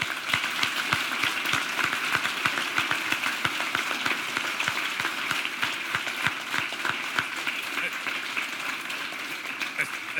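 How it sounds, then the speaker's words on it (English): An audience applauds after a space talk in Tallinn by a former NASA astronaut. Dense, rapid clapping holds steady for the whole stretch, with a voice faintly present underneath. "a big round of applause"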